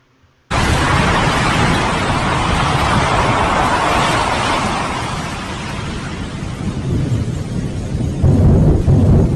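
Anak Krakatoa volcano in Indonesia erupting, a loud sustained roar of explosions beginning abruptly and rumbling on without pause, with a renewed surge of blasts near the end.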